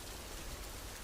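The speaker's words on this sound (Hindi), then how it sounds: "ऊपर से ये बारिश भी रुकने का नाम नहीं ले रही है।" Steady rain falls on a poor family's flooded hut during a cold spell, a dense, even hiss with no breaks, fairly faint and with no voices.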